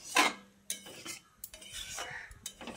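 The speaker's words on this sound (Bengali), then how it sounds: "এবার জলটা দিয়ে এঁচোড় ও আলুর সঙ্গে খুব ভালো করে মিশিয়ে নিতে হবে" Boiled jackfruit and potatoes with added water being stirred in a pot: close, irregular scrapes and clinks of a utensil against metal, with wet mixing sounds between them.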